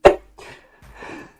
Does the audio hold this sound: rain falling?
no